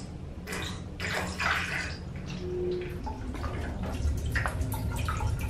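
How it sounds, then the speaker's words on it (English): Water is poured into a shower pan and drains away inside a van build, a steady close splashing and trickling with gurgling as it runs down the drain. "I'm gonna pour some water"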